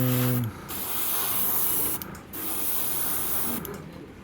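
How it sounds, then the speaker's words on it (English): An airbrush sprays paint to weather a scale model train hopper car, giving three bursts of steady hiss, each lasting about one to two seconds with short pauses between. The spraying is close and clear, following a brief electric hum at the start. "I like to spray, make sure I get that."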